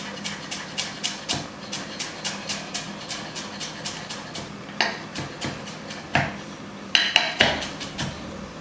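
A knife chops fresh coriander, stems and all, on a cutting board: a quick, regular run of sharp taps, close and clear, with a few louder knocks near the end and no talking.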